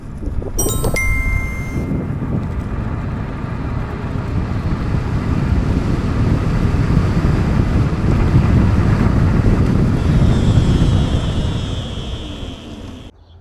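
An Elwinn Cruiser electric motorcycle accelerates, heard as a steady broadband rush of wind and road noise that builds and holds, with a faint rising electric whine near the end.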